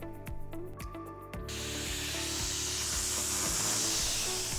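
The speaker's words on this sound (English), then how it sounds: "The spray application of the coating should be performed in a smooth, even motion and in a crosshatch pattern" Spray gun applying a protective coating to a prepared structure, a steady broadband hiss starting after about a second and a half and continuing loud and unbroken, over a low mechanical hum with rhythmic thumps.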